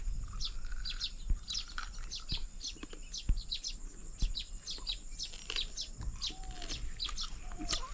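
Sparrows nesting in a khair tree beside a farm field chirp continuously, many quick overlapping tweets at moderate distance over steady outdoor background noise.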